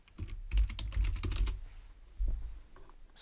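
Rapid keystrokes clatter on a computer keyboard in a close, steady burst, pause briefly, then resume with a few more taps.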